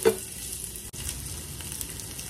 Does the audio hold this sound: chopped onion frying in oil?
yes